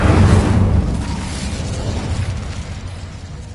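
Incendio fire spell cast in Hogwarts Legacy, a loud burst up front that flares into a deep whooshing roar and slowly fades over a few seconds.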